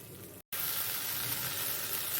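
Leftover gravy and masala spooned over a whole tandoori chicken in a pan, set off by a steady, fairly loud sizzle and hiss that drops out for a split second, then resumes and holds unbroken.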